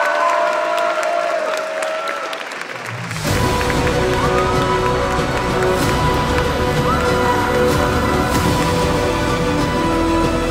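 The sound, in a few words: audience applause and cheering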